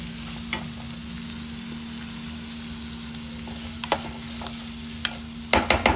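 Green chillies, onions and curry leaves fry in a pan with a steady soft sizzle, broken by occasional scraping stirs and a cluster of clinks near the end.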